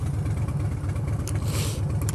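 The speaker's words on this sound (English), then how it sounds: "So the Harley's running great" A Harley-Davidson Street Bob motorcycle engine runs with a steady, deep, throbbing rumble. It holds an even pace throughout, close by, with no voices.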